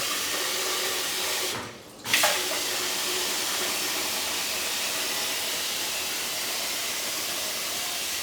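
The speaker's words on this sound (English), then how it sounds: "We will add more and more water." Steady broadband rush of water being poured into a pot, continuous and fairly close, with a brief dip in the middle as the flow is interrupted.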